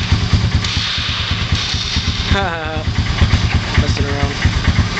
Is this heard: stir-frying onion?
no